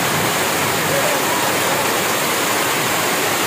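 Heavy rain pours down at sea during a storm with wind and lightning, a dense, steady roar of water that fills the whole clip at close range without letting up.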